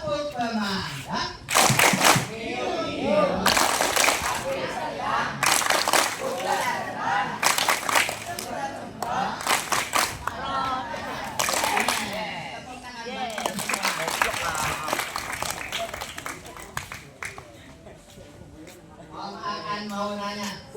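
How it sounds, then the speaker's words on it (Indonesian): Schoolchildren in a firefighter education lesson clap in sharp, rhythmic bursts in a firefighter clapping game, mixed with chanting voices and an adult leading them in a lively room. "Tepuk pemadam."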